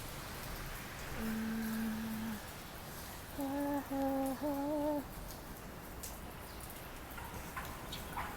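Soft, steady rain patters in the background while a few clear whistled bird calls ring out in the middle.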